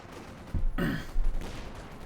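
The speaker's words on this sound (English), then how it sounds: "Katyusha firing down here." Katyusha rocket artillery fires in the strategy game Company of Heroes 2, giving a sudden booming launch burst followed by a rumbling whoosh and a second thump, mid-loud over game ambience.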